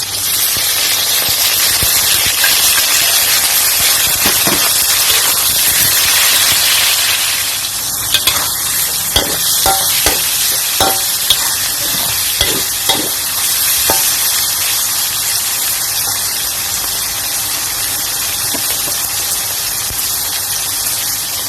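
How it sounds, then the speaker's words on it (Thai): Loud, continuous sizzling as thinly sliced pork is stir-fried in a hot pan with garlic for sweet and sour pork, with intermittent clanks and scrapes of a spatula tossing the meat. "ใส่หมูกระทะดอกลงไปเลยค่ะ"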